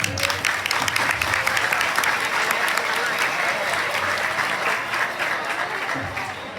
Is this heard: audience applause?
yes